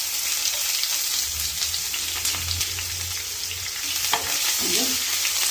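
Onions frying lightly in oil with mustard seeds for a bitter gourd fry, a dense continuous sizzle with occasional pops and stirring clatter, close and loud, no speech.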